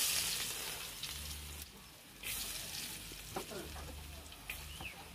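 Onions fry in oil in a pan, a soft crackling sizzle with occasional stirring clinks, fairly faint and close, with a little quiet background activity.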